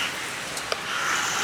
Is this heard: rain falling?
yes